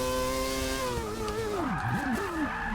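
Quad-rotor engine swapped into an Audi R8 in Forza Motorsport 6 wails with a high buzzing rev that climbs, then dips sharply and swoops back up as the car shifts and brakes, loud and steady with a hint of tire noise.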